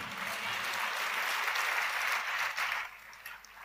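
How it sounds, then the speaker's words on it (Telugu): A church congregation at a Telugu Christian prayer gathering claps together in a dense, close burst of applause lasting nearly three seconds before fading away quickly. "ఏమన్నా అర్థమై చప్పట్లు కొడుతున్నారా, లేకపోతే నా ఆనందం కోసం కొడుతున్నారా?"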